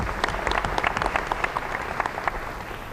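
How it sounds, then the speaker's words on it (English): A round of applause from a luncheon audience at a chamber of commerce leadership event, thanking a sponsor, with many hands clapping in a brisk, uneven patter, some sharp individual claps standing out near and clear. "Clap, round of applause, please."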